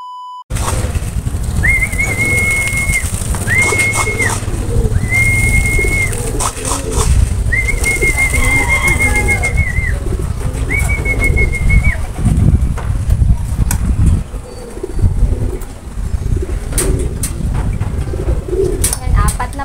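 Racing pigeons arrive at a loft during a training session in Pozorrubio, with soft cooing and wing flaps under steady outdoor noise, several sustained whistles and people talking throughout.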